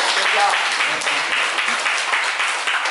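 An audience at a school event in a rural area applauds, a dense, steady clapping that fills the room at close range for the whole stretch, with no voices standing out.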